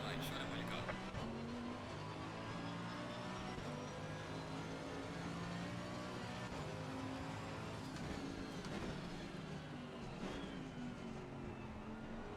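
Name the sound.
race car engines at race start, racing video game (Live for Speed)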